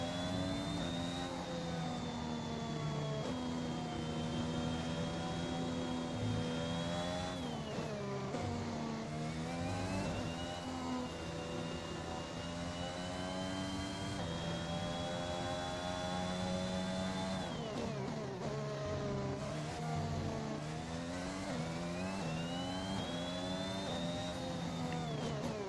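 A Formula 1 car engine in the F1 2021 racing game at the Imola circuit, a loud, continuous high-pitched whine rising and falling through gear changes and corners over a lap, with no talk.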